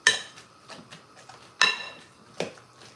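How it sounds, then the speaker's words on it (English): Very ripe plantains mashed with a little salt, giving a few sharp clinking knocks of utensil against bowl, spaced irregularly, with two louder hits standing out, fairly close. "I'm gonna mash"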